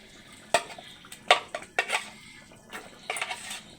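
A spoon stirs spinach with lentils and fava beans in a pot, giving a few sharp scraping clinks and knocks spaced irregularly, close and moderately loud with no talking.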